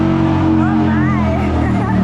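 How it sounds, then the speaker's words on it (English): A motorcycle engine revs loudly on the floor of the Spring Toronto Motorcycle Supershow 2024. Its pitch swoops up and down in quick throttle blips over a background of crowd babble. "We're revving it up."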